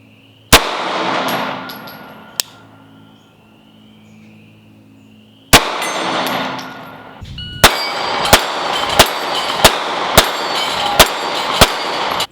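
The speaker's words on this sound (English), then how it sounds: "I'm gonna give you guys an idea of what it looks like to shoot this gun at range" A Sig P365 Gen 2 pistol fired at an outdoor range at targets about 50 yards away: two sharp, widely spaced shots, then a quick, evenly paced string of about eight loud cracks with ringing tails.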